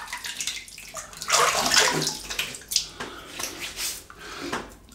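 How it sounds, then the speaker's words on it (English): Water splashed onto the face before a wet shave with a vintage Perma Sharp razor, a burst of wet splashing and dripping sounds, close and fairly loud, with a few lighter splashes following. "let me wet the face."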